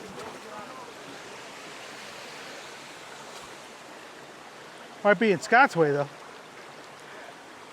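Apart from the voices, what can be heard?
waterfall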